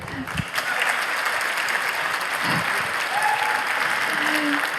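An audience applauds a founder at the Latitude59 2024 pitch competition grand final, a loud, sustained wash of many hands clapping indoors, with a voice briefly rising through the ovation.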